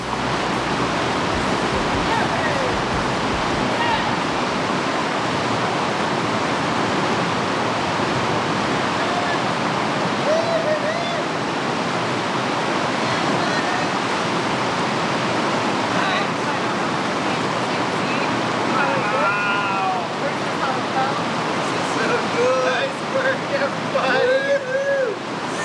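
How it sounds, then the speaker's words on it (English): Rushing river rapids in a remote Montana wilderness roar as a steady, loud broadband wash throughout, with faint voices and occasional whistle-like tones above the churning water. "the crew and I just went through the rapids again"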